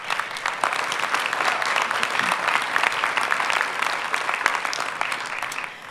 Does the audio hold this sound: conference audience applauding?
yes